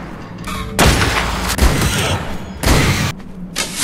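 Gunfire in a cave-exploring survival video game aimed at bats, several loud booming shots in quick bursts with brief gaps between them.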